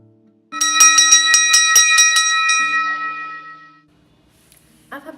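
An old school bell rings with about eight quick, evenly spaced bright metallic strikes that blend into a loud sustained ring, then fade to near silence.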